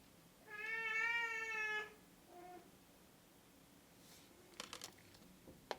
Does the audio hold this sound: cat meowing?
yes